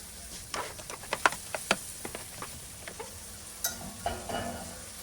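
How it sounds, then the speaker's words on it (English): Sausages frying in a pan, a soft sizzle under a series of sharp ticks and spatters that come in irregular bursts, fairly close and moderate in loudness, with no talking. "these sausages always smell really good when they're cooking"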